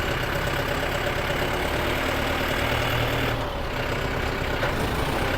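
A Yanmar YM358R tractor diesel engine runs steadily while backing up in reverse, a close, loud, even rumble with a slight dip and recovery partway through, and no talking.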